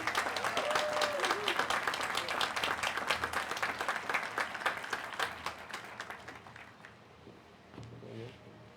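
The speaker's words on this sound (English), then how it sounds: "Now may we please give a warm round of applause for our very own class of 2024 faculty marshals" Graduation crowd claps warmly for the faculty marshals, dense applause that tapers off after about six seconds, with a brief murmur of voices near the end.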